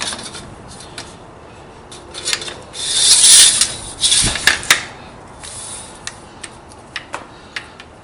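A lathe DRO bracket slides back and forth on an X-axis mount, giving a rasping, rubbing scrape that swells for about two seconds midway, then several short ticks and clicks follow.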